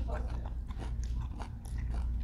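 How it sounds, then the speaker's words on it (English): Crunchy falafel from a Memphis restaurant is chewed close to the mic in a steady run of crisp bites and crunches, with a voice murmuring under the eating. "I love falafel too. Like, it's nice and crunchy."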